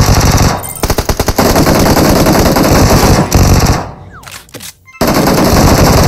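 Rapid automatic gunfire from shooting enemies in a chaotic video game round, loud sustained bursts and fast rattling volleys that dip briefly near the end before resuming.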